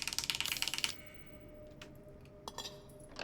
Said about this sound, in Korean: 여기는 가면서 그냥 상호작용 키를 막 누르고 있으면 돼요